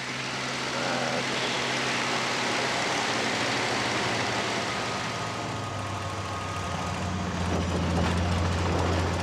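Spitfire aircraft engine in a flight simulator game, a steady loud droning roar with a low hum that shifts slightly in pitch as boost and RPM are pulled back, continuous throughout.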